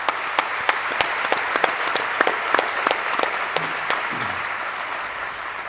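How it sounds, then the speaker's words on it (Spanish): An audience at a lawyers' congress panel claps for the panelists, a sustained round of applause with distinct sharp individual claps standing out over a steady crowd wash, fading slightly toward the end. "Un fuerte aplauso para todos entonces."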